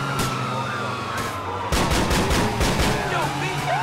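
Gunfire in the video game GTA, with a burst of rapid shots layered over a wailing emergency siren and street ambience, loud and dense in the second half.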